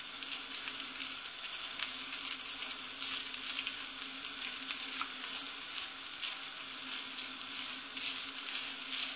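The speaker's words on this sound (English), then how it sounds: "Basically, we want to fry it, toast it," Food spread out in a pan fries and toasts until crisp, giving a steady, close hiss and sizzle with faint crackles throughout, and no talking.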